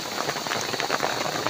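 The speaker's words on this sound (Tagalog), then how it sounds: "Inuulan ng malakas." Heavy rain pours steadily on Talim Island, with a dense, constant patter of drops hitting surfaces close by and no voices, heard from under a shelter.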